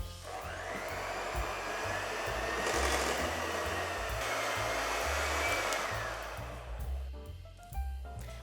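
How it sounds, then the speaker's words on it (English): An electric mixer whirs steadily through shortbread dough of flour, baking powder and cornflour, a close continuous motor drone that rises slightly then winds down with soft clicks at the end. "Now we're going to mix this again until all the flour and corn flour is combined."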